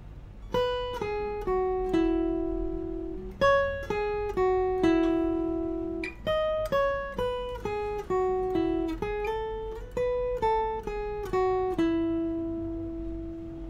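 Guitar riff played through from the start, a longer run of plucked single notes with slides on the upper strings, each note ringing clearly in a steady rhythm, close and alone.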